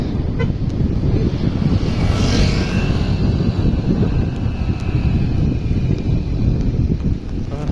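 Steady, loud wind buffeting the microphone, a constant roar with no pauses.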